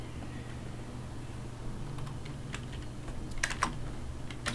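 Someone types on a computer keyboard during a computing lab session, a few sparse keystrokes clicking close by over a steady low fan hum, with no talking.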